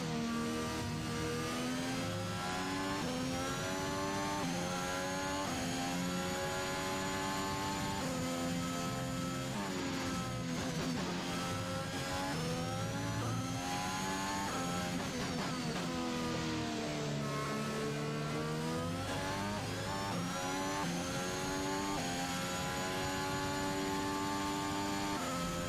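An Alpine Formula 1 car in the F1 2021 racing game at Imola, its high-pitched engine whining steadily and dipping through a gear downshift mid-run before climbing again, loud and close with no talk.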